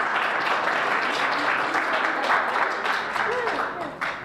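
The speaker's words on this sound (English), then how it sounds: "Another big round of applause." Audience applause at the close of final presentations for a heritage conservation master's program, a dense, steady wash of many hands clapping at close range that carries through the whole stretch and thins slightly at the end.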